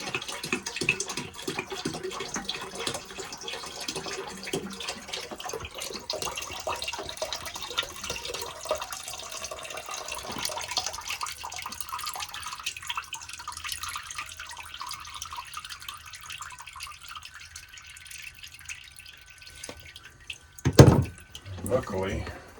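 Rusty water draining from an old bathroom radiator on a narrowboat, a faint steady trickle with scattered drips, quieter in the second half and ending in a short louder splash.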